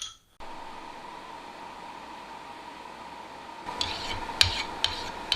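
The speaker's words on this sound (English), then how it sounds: "I can get away with just a basic filing." A hand file scrapes across a forged punch made from soft, normalized sucker rod steel. Faint rubbing comes first, then louder, distinct rasping strokes close by in the last couple of seconds.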